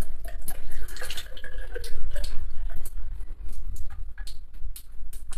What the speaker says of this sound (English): Good flowing water